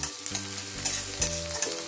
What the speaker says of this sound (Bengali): এবার পেঁয়াজটা আমি হালকা লাল করে ভাজবো, খুব লাল করবো না।